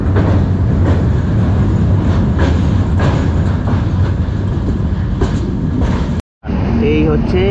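A train running at New Jalpaiguri railway station, a loud steady rumble with rhythmic clatter of railway cars throughout, briefly cut out near the end, then returning with faint squeal-like tones.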